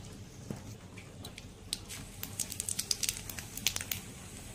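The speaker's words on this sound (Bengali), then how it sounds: "এবার সেই তেলে ফোড়নে দিয়ে দিব শুকনো লঙ্কা 5 ফোড়ন।" Dry red chillies and five-spice seeds hit hot oil for tempering, giving a quiet, steady crackle with scattered sharp pops and spits, heard close and alone without talk.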